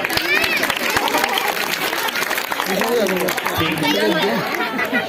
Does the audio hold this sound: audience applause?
yes